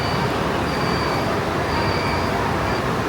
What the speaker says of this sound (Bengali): হচ্ছে মেট্রো রেল